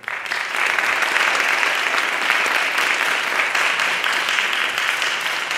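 Concert audience at a Sapporo trumpet festival breaking into applause, a sudden start then dense, even clapping held loud and steady throughout.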